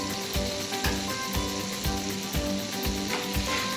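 Quesadillas and melting butter sizzle on a Blackstone griddle, a steady close frying hiss broken by regular soft scraping and tapping from a spatula.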